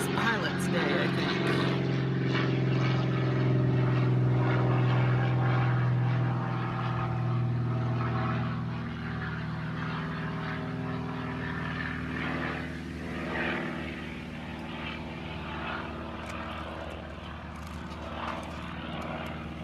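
A small propeller airplane flies over from a nearby small airport on a Sunday morning, its steady engine drone strongest early, then slowly easing off, with a person talking over it.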